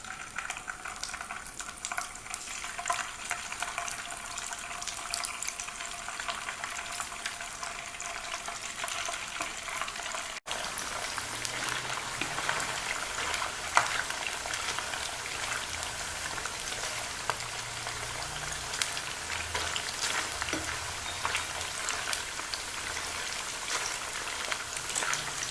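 Chicken pieces sizzle in hot oil in a pan for chilli chicken, a steady crackling fry that grows fuller after they are added, continuous and close with no talking.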